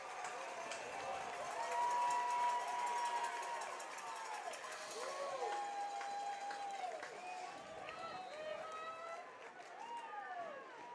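Crowd noise at a high school football game, with a steady murmur of spectators and scattered hollering and shouts, while voices talk over it throughout.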